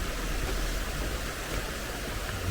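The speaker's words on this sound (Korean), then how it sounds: "물소리 시원합니다." Mountain valley stream water rushes in a steady, broad hiss at the Jangcheok valley entrance, heard up close and alone with no talking.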